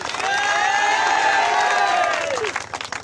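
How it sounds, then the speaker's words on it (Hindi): Steady applause from a crowd at a football club final match event, sustained and fairly loud for about two and a half seconds before trailing off, with a faint voice over the clapping. "तालियां।"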